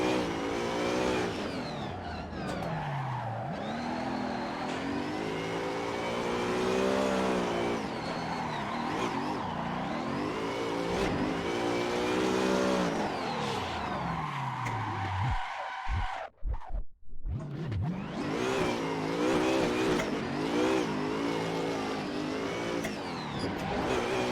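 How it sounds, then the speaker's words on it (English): A race car engine in the Assetto Corsa driving simulator roars continuously with rising and falling revs and tire squeal as it drifts at Irwindale, briefly cutting out before surging again. "Oh, that car sounds so fucking good."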